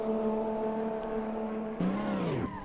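A race car on the Brooklands circuit in Assetto Corsa holds a steady droning engine note, then a second car sweeps past close by with a rising and falling pitch.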